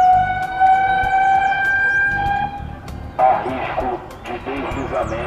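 A civil defense siren sounds during an evacuation drill for heavy-rain flooding, holding a sustained tone for a couple of seconds before it gives way to broadband noise and a voice speaking over it.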